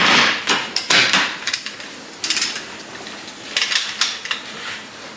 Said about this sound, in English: let's torque it down to 80 foot-pounds